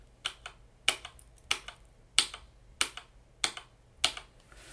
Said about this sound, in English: It's just by the sound that it makes when you register a keystroke.